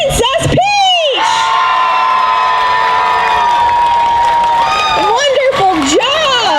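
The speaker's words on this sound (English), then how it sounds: "One big round of applause for all of our winners." A crowd at a cosplay contest at a Japan festival in Kissimmee, Florida, cheers loudly with shrill whoops, shouts and applause, sustained throughout with rising yells near the start and end.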